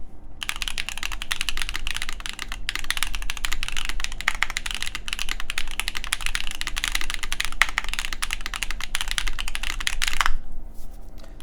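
Continuous rapid typing on an MM Studio Class80 R2 mechanical keyboard, dense crisp clacks at a steady pace, close up, with no talking.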